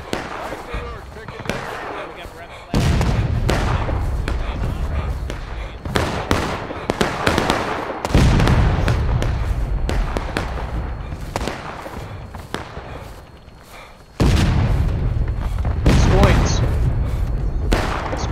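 Musket volleys from a line of soldiers at a Civil War battle reenactment, several loud booming discharges with rumbling tails spread across the clip, some crackling shots between them and no talk.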